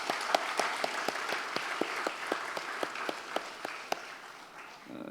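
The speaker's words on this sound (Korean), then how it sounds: "우리 같이 박수로 환영하겠습니다." Church congregation clapping in welcome for a pastor's wife, sparse and uneven claps at a moderate distance, fading toward the end.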